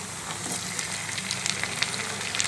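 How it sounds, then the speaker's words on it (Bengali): Ginger-garlic paste fries with browned onions in a pan for chicken rezala, giving a steady, close, even sizzle with small crackling pops scattered throughout and no voices. "আদা রসুনটাকে কিছুক্ষণ ভেজে নিচ্ছি"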